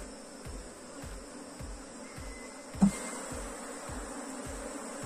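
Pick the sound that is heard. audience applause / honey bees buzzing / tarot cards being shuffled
honey bees buzzing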